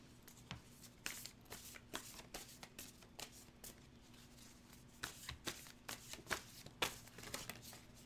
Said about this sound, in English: These are weird to shuffle.